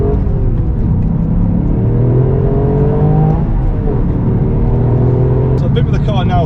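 A Toyota Yaris GR, a 257 hp four-wheel-drive homologation special, drives at a steady engine drone with rising and falling gear-change pitch, heard from inside under continuous talking.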